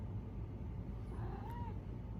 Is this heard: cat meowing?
yes